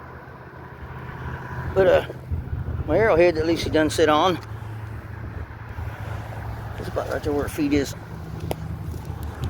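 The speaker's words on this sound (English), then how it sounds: "There's a kind of a highway here behind me." A steady low rumble of highway traffic carries on behind someone speaking outdoors, with wind buffeting the microphone now and then.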